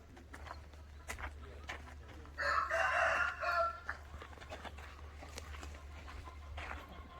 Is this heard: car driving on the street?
no